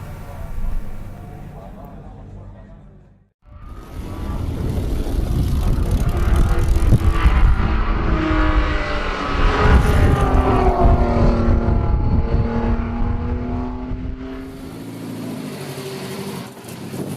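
A 1930s Italian Grand Prix racing car's engine runs loud and steady for about twelve seconds after a brief pause, its harsh mechanical roar dominating with rising and falling pitch.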